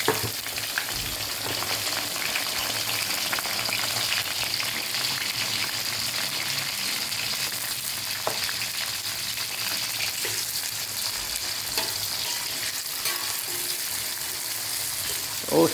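Petai (stink bean) skins tossed all at once into hot oil sizzle and crackle in a steady, dense hiss that runs unbroken throughout, with faint stirring clinks now and then.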